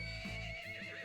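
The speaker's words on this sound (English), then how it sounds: "I'm on a horse." An Ember Steed, a fiery horse variant in the video game Ark, gives a short whinnying neigh over a steady background hum, heard alone without voices.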